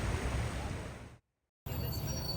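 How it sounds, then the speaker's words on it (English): Steady, broadband wash of ocean surf beside the Malecon waterfront in Puerto Vallarta, Mexico, continuous and fairly soft, briefly cut to silence for a moment before resuming. "the other side is right beside the ocean, and you can hear the waves as you walk."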